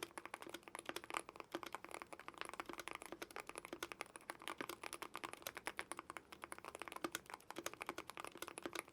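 Rapid, steady keystrokes on a magnetic gaming keyboard, a dense run of crisp clicks and clacks close up for the whole stretch, with no talking.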